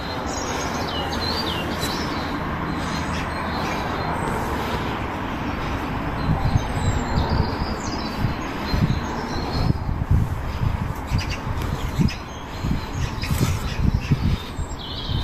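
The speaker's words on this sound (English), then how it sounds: "You can hear a lot of bird song in the background there." Several birds chirp and tweet in the distance in Kent, England, over a steady outdoor rumble, with scattered calls and squawks throughout.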